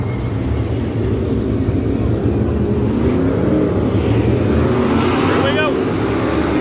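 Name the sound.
race car engines running wide open on a short track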